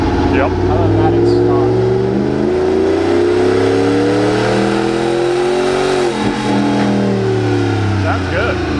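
A turbo diesel truck with a Magnaflow muffler and resonator revs on a dyno at a diesel dyno day, a loud sustained engine roar that climbs and falls in pitch repeatedly, with faint voices in the background.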